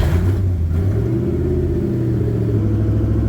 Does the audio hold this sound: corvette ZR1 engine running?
yes